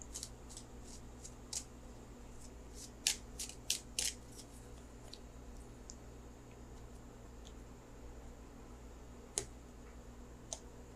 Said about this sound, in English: So let me shuffle for the outcome card.